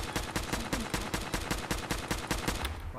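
Rapid automatic gunfire in the Fallout 4 game, a steady burst of loud cracking shots at an even fast rhythm for about three seconds, cutting off abruptly at the end.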